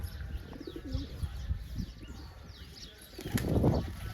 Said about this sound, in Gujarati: થોડાક કબૂતર જો માથે બેઠા છે.